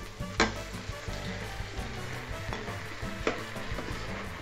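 Minced meat sizzles and fries steadily in a multicooker bowl for chili con carne, with a few sharp utensil clicks against the bowl and no talking.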